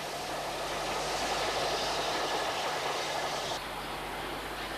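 A Great Western 5205 class steam locomotive runs on the North Norfolk Railway. It makes a steady, loud rumble of rolling wheels and machinery that carries on without a break, with a slight change near the end.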